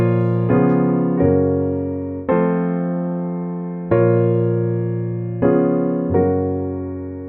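Piano plays a slow chord progression from a Brahms Intermezzo, Op. 118 No. 2, with six sustained chords struck one after another, each ringing and decaying before the next, alone with no talking.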